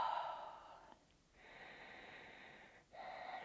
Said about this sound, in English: Maybe you're still able to do that audible throat breathing.